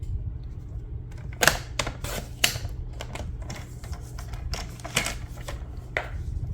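Card stock for a handmade greeting card being cut down to size with a paper trimmer, several sharp slicing and clicking strokes in irregular bursts, close and fairly quiet.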